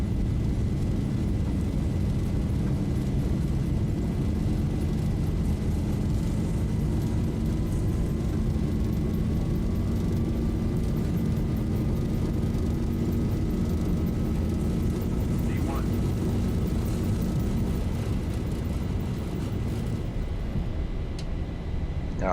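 Boeing 737 airliner, the Zibo mod, in a flight simulator, taking off and climbing out of Hobart: a steady loud engine roar holds throughout, with a slowly rising whine and a brief click near the end.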